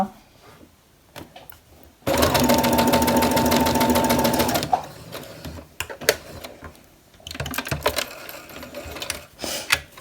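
Domestic sewing machine running with its upper thread tension set low, stitching in one steady, loud, fast mechanical rattle for about two and a half seconds, then stopping. Quieter handling clicks and faint noises come before and after.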